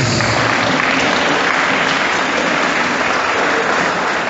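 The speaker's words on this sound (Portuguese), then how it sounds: "dá uma salva de palmas calorosa para Jesus" A church congregation at a Catholic sermon breaks into loud, dense, sustained applause, many hands clapping continuously from start to finish.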